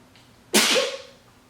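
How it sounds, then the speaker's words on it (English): A single sudden sneeze, close and loud, bursting out then trailing off in under a second against quiet background. "I have to sneeze."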